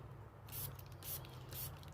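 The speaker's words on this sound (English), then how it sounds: "So I'm going to spray my molds with some alcohol" A spray bottle gives three short, quiet spritzes of alcohol onto silicone molds used for epoxy resin. The bursts come evenly spaced and sit close to the microphone.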